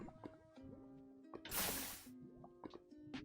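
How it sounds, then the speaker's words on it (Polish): Water flowing and spilling through blocks in Minecraft, heard as a soft liquid wash with drip-like game sounds and short tones, rising to a brief louder gush midway before settling again. "I tak woda się zaleje."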